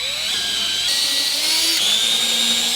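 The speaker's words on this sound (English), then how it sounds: "Drill our pilot holes for this side." A power drill whines steadily at high pitch, drilling pilot holes in wood, its motor pitch dipping briefly as it bites into the wood, continuous and close.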